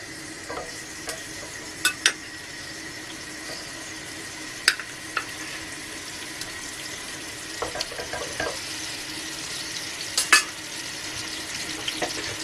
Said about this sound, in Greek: Θα ανάψουμε τη φωτιά και θα ξαναβάλουμε πάλι το κρέας μέσα.